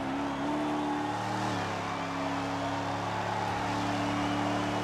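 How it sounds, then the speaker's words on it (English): A race car in the Cars 3 video game accelerates hard, its engine holding a loud, sustained steady drone with a slight pitch rise. "Wow, that's some great acceleration."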